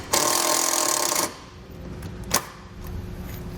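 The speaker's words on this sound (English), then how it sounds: "the larger of the self-tapping screws in the kit, the 3/8 bit driver, and create our hole" A drill with a 3/8 bit driver drives a self-tapping screw into a 2018 Jeep JK Wrangler's frame with a short loud whir of about a second, followed by a sharp click and quieter handling noises.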